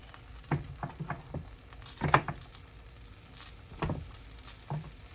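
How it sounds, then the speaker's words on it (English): Food is stirred in a frying pan while cooking pasta: a few scattered scrapes and soft clicks over a faint, low sizzle. "just give this a little stir."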